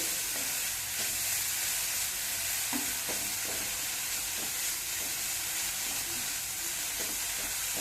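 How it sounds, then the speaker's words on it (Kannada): Grated carrots fry in ghee for carrot halwa over a low flame, giving a steady, close, continuous sizzle and hiss with a few soft stirring knocks, and no talking. "ಹಾಕಿ ಸ್ವಲ್ಪ ತುಪ್ಪದಲ್ಲಿ ಚೆನ್ನಾಗಿ ಹುರ್ಕೊಳ್ಳಿ"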